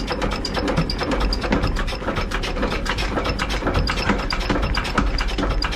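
The flywheel of an antique diesel generator aboard a Dutch barge is hand-cranked, producing a loud, rapid ratcheting clatter of gears and pawl clicks that keeps up a steady rhythm throughout.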